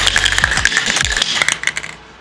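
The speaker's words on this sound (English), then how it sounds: "And then we have this big old rattle spray can right here." A large rattle spray can of automotive primer is shaken hard, its mixing ball clacking in a fast, loud, rapid rhythm for about two seconds before stopping.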